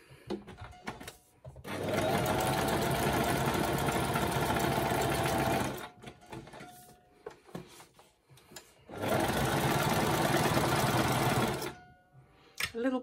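A sewing machine stitches a zigzag seam on fabric scraps in two sustained, loud runs of rapid whirring and needle chatter, about four seconds each, separated by quiet gaps with soft handling sounds.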